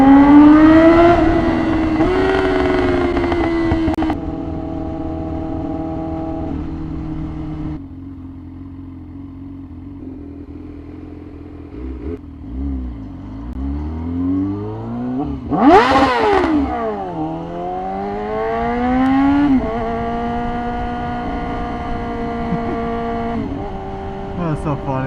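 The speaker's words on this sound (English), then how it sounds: "This bike just sounds so ridiculous though, especially when like you pin it against the RPM limiter and it hits a red line." Yamaha R6 sport motorcycle engine, loud and close, revving up repeatedly, holding high pitched buzzing tones at the rev limiter and dropping back between revs, with a few short sweeping rises and falls over about twenty-five seconds.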